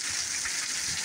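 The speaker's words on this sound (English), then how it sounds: "it's been raining crazy for about 3 hours now" Heavy rain pours steadily during Hurricane Helene in South Carolina, a dense, continuous hiss with no breaks, close and loud, alone without voices.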